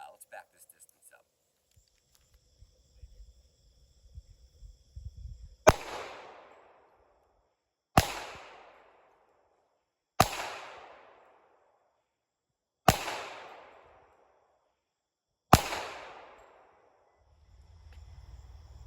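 Five sharp pistol shots from a Springfield Ronin .45 ACP with a 5-inch barrel, evenly spaced about two to three seconds apart, each loud crack trailing into a brief decay, with faint rustling before and after.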